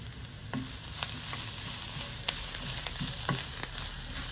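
Curry leaves crackle in hot oil for a Jaffna-style prawn fry, a steady hiss dotted with sharp pops and a few light stirring knocks.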